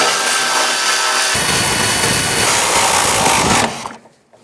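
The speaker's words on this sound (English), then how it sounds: "I'm going to first take those out using the 13mm socket." A powered tool with a socket buzzes steadily as it removes 13mm transmission mount bolts on a 2010-2017 Chevrolet Equinox, close and loud for several seconds before cutting off abruptly into near silence.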